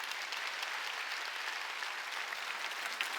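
Church congregation at a Sunday worship service clapping, a steady, even wash of applause heard from a distance, with no talk over it.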